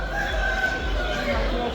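Chickens and a rooster at the Bursa bird market poultry section, a dense crowing and clucking din close by, with market crowd murmur underneath throughout.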